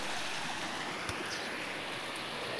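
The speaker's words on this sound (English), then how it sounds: "Yet another river crossing." A river rushing at a backcountry crossing in New Zealand, a steady broadband wash of moving water, close and continuous, with no voices.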